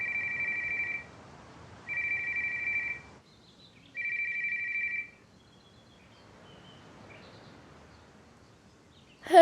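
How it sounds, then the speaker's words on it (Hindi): A telephone rings three times in evenly spaced electronic bursts, each lasting about a second, then the line goes quiet. "साशा, तुमने फोन क्यों नहीं उठाया मेरा?"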